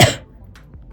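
A single loud, close cough bursts out at the start, then trails into faint breathing and quiet background.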